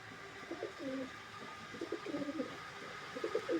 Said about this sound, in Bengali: এই যে আমার একটা মাক্সি রেসারের নর, ভালো উড়ে